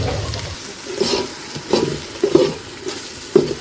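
Onions sauté for biryani in oil left over from frying chicken, making a soft sizzle broken by several distinct stirring clatters spaced about a second apart, close and with no talk.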